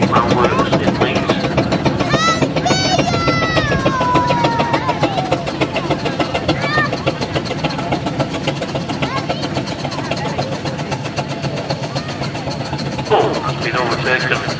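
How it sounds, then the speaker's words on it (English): Fowler steam traction engine from the Leeds steam plough works rumbles in at a vintage steam rally in Sheffield, a steady mechanical chuffing under loud crowd noise and a commentator's voice over a public address. "coming in now is a Fowler traction engine, another from the steam plough works in Leeds"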